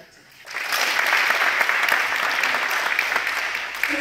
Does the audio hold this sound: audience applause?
yes